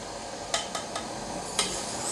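Chicken feet sizzle gently in a pan over a raised flame, with a few sharp spoon clicks and scrapes against the metal as they are stirred.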